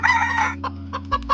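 A chicken clucks close by in a quick run of short, bright calls over a steady low hum, with one longer call at the start followed by choppy clucks.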